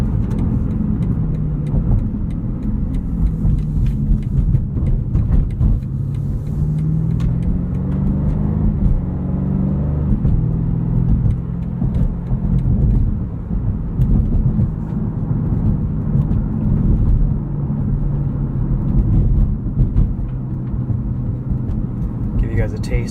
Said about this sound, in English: Give you guys a taste of some of the suspension over bumps here.